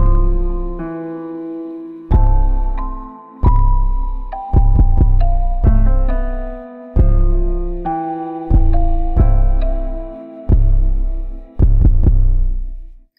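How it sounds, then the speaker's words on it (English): A kick drum and 808 bass without sidechain pound out a beat: punchy hits, each followed by a long pitched bass tail that decays and slides between notes, repeating loud and close with nothing else playing. "So that's the kick and the 808."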